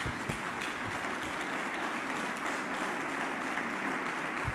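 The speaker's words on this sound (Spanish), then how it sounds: "aplauso para la gloria de Dios" Church congregation applauding during a Bible seminar in Peru, a steady dense wash of clapping that holds at an even level from start to finish with no voices on top.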